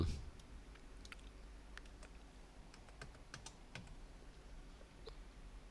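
Keys on a computer keyboard are tapped out in a quiet, uneven run of light clicks, searching for a component on an iPhone 6 circuit board, over a steady low background hum.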